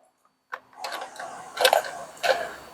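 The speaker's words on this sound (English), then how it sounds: "take my other T-wrench with the smaller head on it, go ahead, loosen these 3 bolts" A T-wrench loosens bolts on the arm of a K12 saw, giving a sharp metallic click followed by several short, faint scraping and ratcheting bursts close by.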